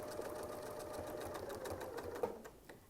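A sewing machine stitches steadily through fabric while quilting around a Westalee Yin and Yang circle template, a continuous close, fairly loud mechanical hum with rapid needle ticks, briefly sewing in to touch and backing out, with no voices.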